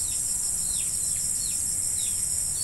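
A recorded swiftlet call plays as a series of short, repeated descending chirps at an even rhythm over a constant high-pitched whine and steady background hiss.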